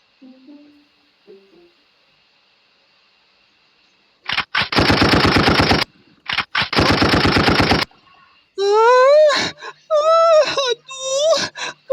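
Two long bursts of rapid gunfire rattle loudly in an audio drama, followed by a voice wailing and moaning in pain, with faint speech earlier.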